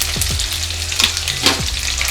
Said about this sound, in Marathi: 1-2-3 मिनटं आपण व्यवस्थित मसाला परतून घेणार आहोत।